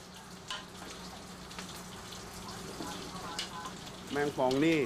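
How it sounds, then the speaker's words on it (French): Scorpions and insects deep-frying in oil at a Thai street food stall: a constant, soft bubbling sizzle heard at moderate distance, with a voice rising over it at the end. "on les fait juste frire. Tu les jettes dans l'huile et quand c'est cuit, tu les manges"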